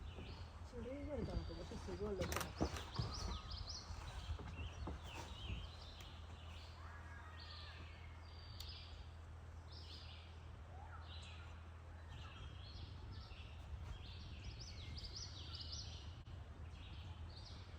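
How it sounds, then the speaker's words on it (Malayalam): Birds chirp in short repeated bursts over a low background hum at a campsite in a Pennsylvania forest, with some rustling and knocking early on; a distant voice is faintly present. "കിളികളുടെ നാദമെല്ലാം ആസ്വദിച്ചു."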